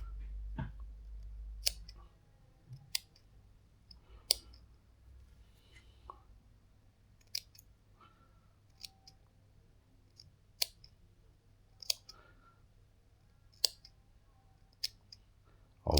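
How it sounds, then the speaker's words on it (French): Elastic fabric mesh being cut along a seam with a wire cutter, a series of sharp, close snipping clicks spaced irregularly over a quiet background. "faites ça avec un ciseau ou un coupe-fil comme moi"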